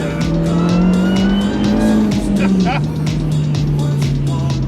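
A supercharged Mini R53's engine hums steadily at close range, its pitch rising slightly then dropping as it drives, with a person talking over it.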